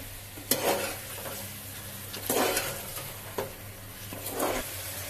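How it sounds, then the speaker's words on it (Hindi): Chicken and potatoes stirred in a cooking pot for chicken aloo salan, with a steady sizzle under a few scraping strokes of a spoon against the pot, close and moderately loud, no talking. "अब हम इसके अंदर आलू ऐड कर देंगे इनको मिक्स करते हैं हम"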